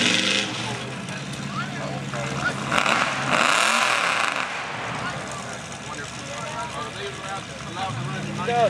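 Race car engines roar at a dirt track event, a broad continuous mechanical drone with a louder pass in the middle, heard under steady talk from people nearby.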